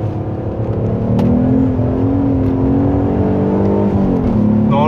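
An Alfa Romeo 156 GTA engine revs loudly and steadily up close, its pitch climbing and falling in smooth sweeps over a constant, dense mechanical drone with no talk.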